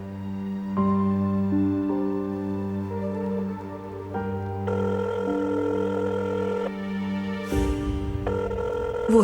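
A telephone rings on and on with no one answering, repeated electronic ring tones over soft music-like background tones, faint and steady.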